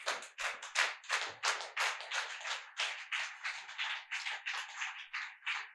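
A church congregation claps in praise of God during a sermon, a dense, steady stream of many hands clapping close by with no voices.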